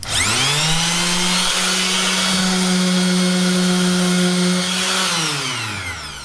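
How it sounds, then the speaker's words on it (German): A Makita power sander grinds against wood, a loud steady whine with a strong humming tone that holds for about five seconds before winding down, heard alone and close. "Jetzt mache ich das mit dem Makita-Schleifer."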